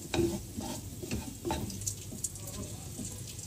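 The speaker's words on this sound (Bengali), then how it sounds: "সবকিছু একসাথে ভালো মতো ভাজা হয়ে গেলে আমি দিয়ে দিব একটু ফ্রেশলি গ্রাইন্ড করা" Vegetables and eggs seasoned with black pepper are stir-fried in a pan, giving a quiet sizzle broken by repeated scraping and tossing strokes close by.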